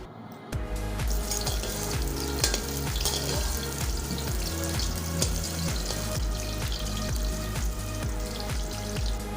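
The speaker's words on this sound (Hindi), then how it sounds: "अच्छी तरह से गर्म करके फिर प्याज ऐड कर दें, इस तरह से कि पड़ पड़ की आवाज़ आनी चाहिए" Onions frying in hot oil over high heat crackle and pop loudly and continuously, with rhythmic stirring scrapes running through the steady sizzle.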